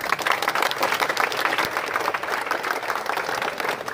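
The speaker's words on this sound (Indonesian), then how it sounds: "Tepuk tangannya." A crowd at a village gathering in Jember claps in a lively, uneven burst of applause, close and continuous for the few seconds shown, with no speech over it.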